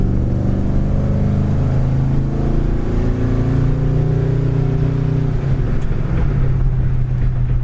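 A 1973 Ford Gran Torino Sport with a 351 Cleveland V8 accelerates from inside the cabin, a loud, steady engine drone climbing in pitch, then easing briefly before holding again, with no talk.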